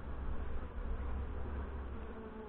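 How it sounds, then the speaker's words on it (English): Dense, steady buzzing of many honey bees swarming around an opened hive during a May inspection, loud and continuous throughout with no voices. "This seems like way more bees since the last time I've seen them"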